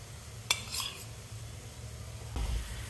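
A spoon stirs curd into spiced plain kushka rice in a pot, with a sharp metal clink, then a few soft scraping stirs and a later scrape, all fairly quiet with no talking.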